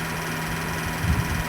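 Video game vehicle engine idling in a police-and-thief game, a steady low rumbling hum throughout with a brief louder throb near the end.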